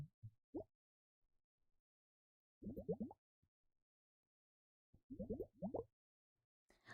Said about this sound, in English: We also have water, one of those water hourglasses for good like bloop bloop bloop bloop bloop bloop bloop bloop sounds.